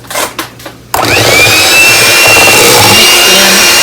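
An electric mixer whirs steadily through low-carb cheesecake batter as eggs are beaten in. It starts abruptly after a few brief bumps and then runs loud and continuous, close by.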